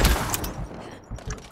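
A flashbang grenade goes off in the Call of Duty MW3 video game, a sharp, loud burst followed by a couple of thuds and crackling impacts in quick succession.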